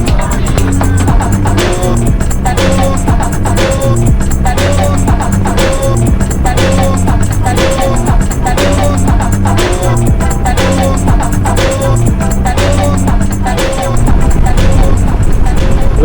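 Motorcycle cruising along a Virginia country road, a steady loud engine drone with wind rush running throughout, rising slightly near the end.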